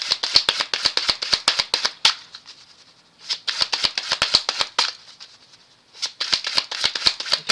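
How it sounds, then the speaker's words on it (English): Playing cards being shuffled by hand, crisp rapid riffles in close, loud bursts of about two seconds each, separated by brief quiet pauses, with no talking. "especially when I shuffle cards"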